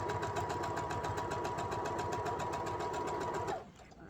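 A sewing machine stitches a fabric strip for a postage stamp wall hanging, running in a steady fast rhythmic whir close by, then stopping abruptly near the end.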